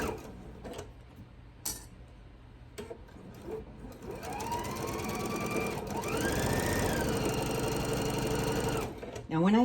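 A sewing machine stitching quilt pieces, its motor whirring steadily with the pitch rising as it speeds up, loud and close, with a few taps and clicks before the long run.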